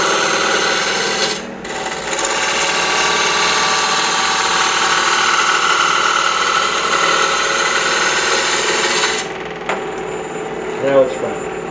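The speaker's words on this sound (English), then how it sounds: "I'm going to come in at a 45-degree angle with the roughing gouge" A roughing gouge takes light cuts at a 45-degree angle into dry, kiln-dried white ash spinning on a faceplate-mounted lathe, giving a steady rasping scrape over the motor hum that breaks off briefly near the start and again toward the end.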